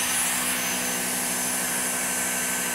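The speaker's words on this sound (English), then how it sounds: "if I switch this machine on" Dyson V6 cordless vacuum cleaner running, a loud, steady high-pitched whine with a constant motor hum, unbroken throughout and close by, without talk.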